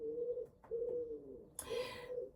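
Pigeon cooing just outside a window, a few soft, low, repeated coos with short gaps, faint and fairly close, ending with a brief rustle of wings.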